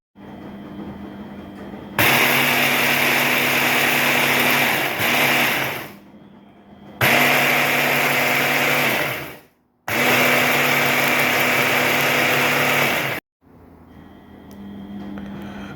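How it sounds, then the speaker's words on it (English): A food processor grinds dried tea leaves in three loud, steady whirring bursts of a few seconds each, separated by brief pauses with quieter background hum. "put it into the food processor and then grind that up"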